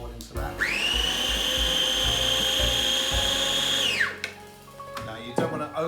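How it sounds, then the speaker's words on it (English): Electric blender whizzing a paste of olive oil and ingredients, a loud steady motor whine for about four seconds before spinning down, with a few clatters and brief talk around it. "This just needs a good whiz up."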